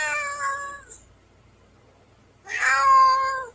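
A plump house cat cries with two drawn-out, whiny meows separated by a brief pause, close and clear against a faint low hum.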